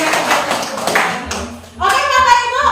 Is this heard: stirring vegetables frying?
no